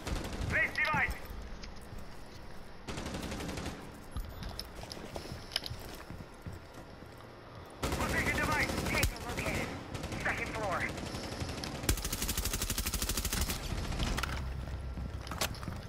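Video-game gunfire comes in loud bursts of rapid automatic fire, several sustained volleys separated by short pauses, with game sounds underneath.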